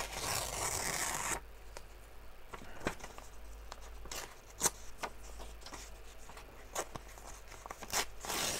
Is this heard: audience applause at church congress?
no